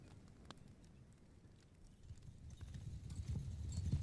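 A horse walks through a meadow on a cold morning, its hooves clip-clopping softly and at some distance over a low rumbling background that grows louder toward the end.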